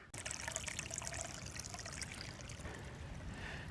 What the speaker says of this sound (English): we'll give this a little bit of time to drain this water out of here